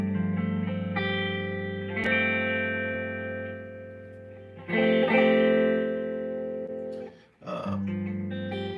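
An electric guitar chord rings out and sustains, then is struck again a few times with heavy effects and reverb, loud and alone.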